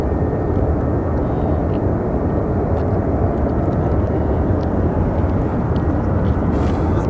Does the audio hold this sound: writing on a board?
no